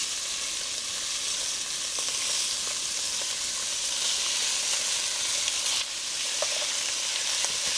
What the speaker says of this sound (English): once your pan is hot, which it looks like it's kind of rippling, put in your short ribs